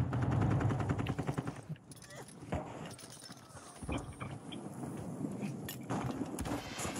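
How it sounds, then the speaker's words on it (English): Gunfire in the video game Warzone 2, with dense rapid shots up front that thin into scattered bursts and pops during a team fight, set against a steady background of game sound. "I'm getting shot in the back by a different team."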